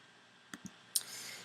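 A computer mouse gives two quiet, close clicks in quick succession, then a third sharper click, followed by faint hiss in an otherwise quiet room.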